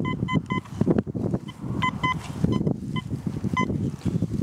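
A metal detector sounds a series of short, sharp electronic beeps in a clipped rhythm while someone talks over the tones outdoors.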